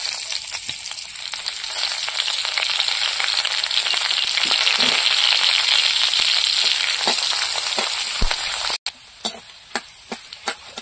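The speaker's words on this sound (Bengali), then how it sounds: "রসুনটা লাল করে ভেজে নিয়েছি" Garlic sizzles loudly in hot oil with bay leaf and panch phoron, a steady close frying hiss that cuts off near the end, followed by a few sharp stirring clicks.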